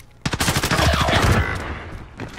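Rapid automatic gunfire in the shooter game Call of Duty: Modern Warfare, a loud, close burst of dense shots lasting over a second before trailing off.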